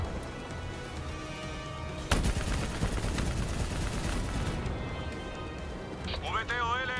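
Heavy gunfire in the Call of Duty Black Ops 3 campaign, a dense sustained barrage of automatic shots roaring under an ongoing game soundtrack and effects, loud and continuous, with a shouted voice at the end.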